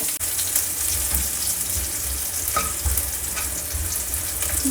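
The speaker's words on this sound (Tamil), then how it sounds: "ஜீரா கொஞ்சம் வெடிக்கட்டும்." Steady sizzle of cumin seeds frying in hot oil, a continuous crackling hiss with a few sharper pops, close and fairly loud with no talking.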